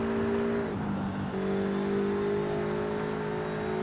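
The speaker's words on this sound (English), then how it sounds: "I'm flooring it through the corner and it's just gently accelerating out of it." An A-class car built by the player in Forza Horizon 5 pulls out of a corner with the throttle floored, its engine holding a loud, steady tone that dips briefly, then rises again as it gently accelerates.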